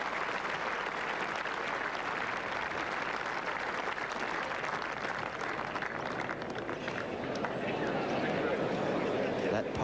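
A golf gallery at the 1999 South Australian Open applauds Craig Parry's approach shot in the final round, sustained dense clapping and cheering from a large outdoor crowd, with a commentator talking over it.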